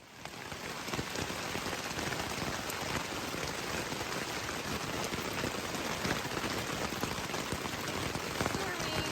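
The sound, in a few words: rain falling on the White Mountains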